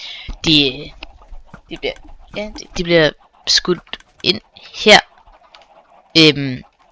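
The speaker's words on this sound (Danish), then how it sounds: "og så spawner kyllingerne herinde" Minecraft chickens cluck in short bursts in a video game, interleaved with someone speaking Danish nearby.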